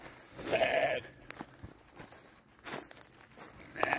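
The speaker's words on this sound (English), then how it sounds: "Look at the goats. We still got some kids. Got the mamas there." Goats on a farm, mothers and young kids together, bleat in a loud burst near the start and again at the end, with quieter rustling and footsteps between the calls.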